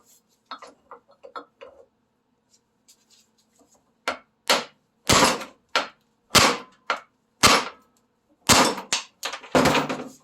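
A hammer striking a worn-out U-joint to drive its cap out, a series of sharp metallic blows after a few lighter taps, fairly loud and close with short gaps between hits.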